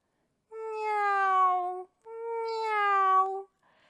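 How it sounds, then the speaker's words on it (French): A white cat meows twice, each a long, clear, close cry of more than a second, separated by a short pause, in a narrated children's story. "En chemin, miaou, miaou, un chat blanc"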